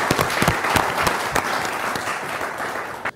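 A studio audience at a cooking show bursts into steady, dense applause for a few seconds, close and lively, with no talking, cutting off abruptly at the end.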